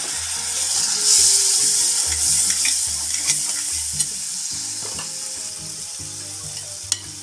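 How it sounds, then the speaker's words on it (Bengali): A spatula stirs a sizzling pan of onions with turmeric, roasted cumin powder and red chilli powder, a splash of water added, for mughlai paratha filling: steady frying hiss with repeated scraping strokes, close and loud, no voices. "এবারে নাড়বো, সামান্য একটু জল দেব।"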